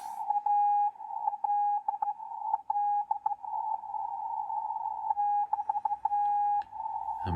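Morse code CW signal heard through the filter of a Collins 51S-1 receiver: a steady, clean tone keyed in uneven dots and dashes, somewhat rough and sloppy in timing, with brief beeps of interference over a quiet background.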